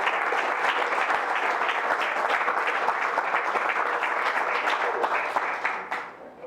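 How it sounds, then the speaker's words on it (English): Audience applause at a local talk, a room of people clapping steadily with individual claps audible for about six seconds, then tapering off quickly into quiet. "Let's give Matt a round of applause."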